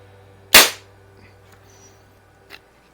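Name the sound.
Daisy model 880 .177 pellet rifle shooting wadcutter pellets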